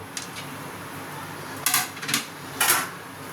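A metal lid clatters onto a pot of momos set to steam, producing a few sharp, bright clinks in quick bursts over a quiet kitchen background.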